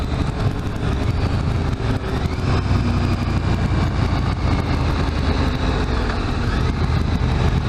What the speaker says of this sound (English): this bike does not like to cruise at 100 kilometers an hour in 6th gear